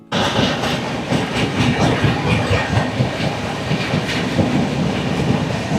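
Kaziranga Express rolling through Dankuni Junction, with a steady loud rumble and rhythmic clickety-clack of wheels on rail joints, heard from on board the moving train.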